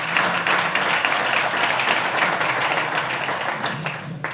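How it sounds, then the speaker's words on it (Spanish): Sustained, fairly loud applause from an audience at a rural-sector round-table forum, a dense even clatter of many hands that holds steady before tapering slightly at the end. "Os agradezco el aplauso"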